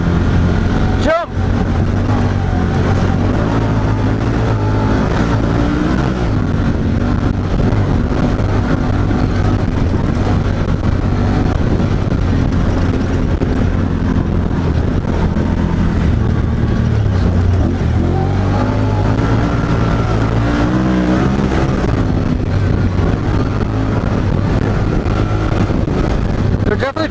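A Honda Talon side-by-side, 1000X or 1000R, runs at about 45 mph across open Utah country, its engine drone steady and loud throughout, with wind and terrain rumble and people talking over it.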